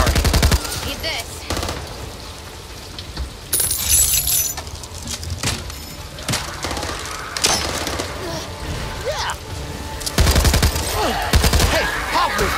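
Rapid bursts of gunfire from the co-op zombie shooter Back 4 Blood, loud and repeated in clusters across the scene, with voices shouting over the shots.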